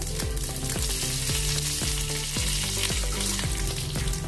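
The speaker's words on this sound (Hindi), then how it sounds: "तेल गरम हो गया था अच्छे से। अभी इसमें डालेंगे कड़ी पत्ता" Curry leaves hit hot oil with a bright, steady sizzle and crackle, heard beneath continuous background music with a rhythmic bass line.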